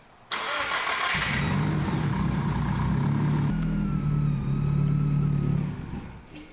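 A rebuilt Nissan 300ZX engine cranks briefly, fires on the first try and settles into a steady, rumbling idle, heard loud and close with no talking.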